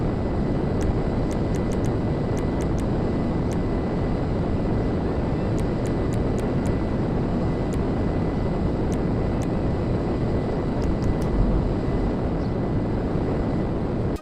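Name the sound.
fighter jet flying in video game GTA 5 Online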